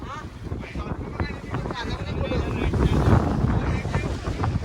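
A boat runs across the open sea off Goa, with a rumbling engine, rushing water and heavy wind buffeting the microphone, while people talk over the noise.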